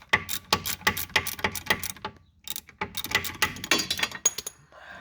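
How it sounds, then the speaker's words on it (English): A ratchet works the rear brake caliper mounts loose on a Subaru Impreza 2.5i, giving bursts of quick metallic clicking strokes with a short pause midway, close and moderately loud. "now I'm about to get the caliper mounts off"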